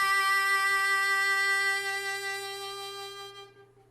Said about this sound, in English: A single note that sounds like this on your 2-draw.